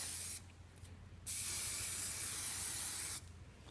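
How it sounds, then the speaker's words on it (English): Hairspray hisses in close short bursts around a hair bun, then one long steady spray lasting nearly two seconds, followed by a brief quieter pause and another burst. "I'm going to spray around the top of the bun here"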